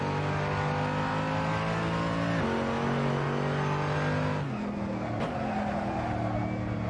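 A race car in the video game Assetto Corsa accelerates hard, its engine note holding a steady high drone and then dropping at each upshift, loud and continuous with slight tire noise.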